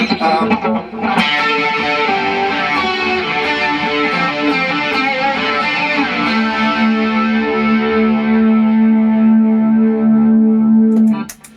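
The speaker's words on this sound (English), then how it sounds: "you might want to use the chorus and the delay together." Electric guitar with a shimmering chorus and echoing delay plays a run of notes, then one long sustained note rings out before cutting off.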